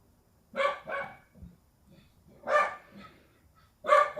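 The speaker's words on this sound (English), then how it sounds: "Excuse my neighbor's dog." A neighbor's dog barks nearby in three short bursts, two quick barks, then a single one, then another, with quiet gaps between them inside a home.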